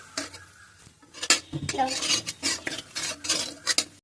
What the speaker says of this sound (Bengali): দিয়ে এই যে মশলাটা কষাচ্ছে, দেখুন।